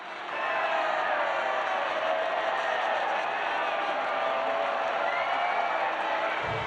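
Racing game crowd at the podium in F1 23 after an F2 race in Bahrain, a steady wash of distant cheering and whoops that rises quickly and holds at moderate level, with no talk over it.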